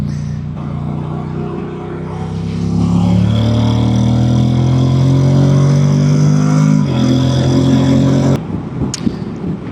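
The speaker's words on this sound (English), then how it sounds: "we're going to do a Pillion test right now on the highway to see what kind of acceleration this motor has" A Honda NC750X motorcycle carrying a passenger and full luggage accelerates on a highway, its engine drone rising steadily in pitch over about eight seconds, loud and close with wind noise, then easing off abruptly near the end.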